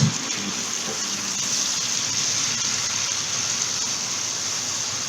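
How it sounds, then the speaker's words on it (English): Water sprinkled onto masala frying in a pan for a pink lentil dumpling curry sets off a loud, steady hiss and sizzle close by, sharp at the start and holding level throughout, with no talk. "I'll sprinkle some water so that the masalas does not get"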